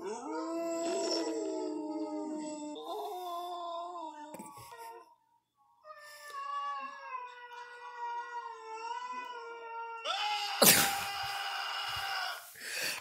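A dog howls in long, wavering, mournful tones, rising and falling over several drawn-out phrases with a brief pause midway, ending in a harsh, loud screaming burst.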